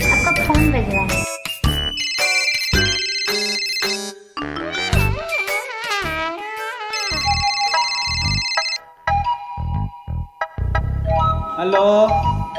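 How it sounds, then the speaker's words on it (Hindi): A mobile phone ringtone plays a bright electronic melody of repeating tonal phrases, loud and close, continuing through the whole stretch without talk. "आपका फोन बज रहा है"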